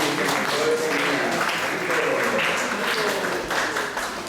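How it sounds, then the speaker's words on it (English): A round of applause from a temple congregation, steady dense clapping filling the whole stretch at moderate loudness with a faint murmur of voices beneath. "Let's give a round of applause for this wonderful devotee"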